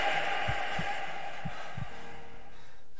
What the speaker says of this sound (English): Like I heard the heartbeat.